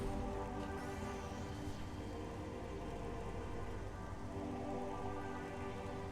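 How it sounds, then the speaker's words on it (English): Steady rain falls in the video game Metroid Prime, a dense, even hiss of drops that holds without pause from start to end. No one speaks. "You get the rain on the visor when you look up"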